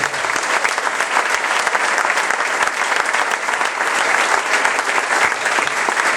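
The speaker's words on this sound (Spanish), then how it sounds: "denle un aplauso al Señor entonces" A church congregation at a revival meeting in Chaco applauds the Lord, loud, dense and sustained clapping filling the whole six seconds without letup.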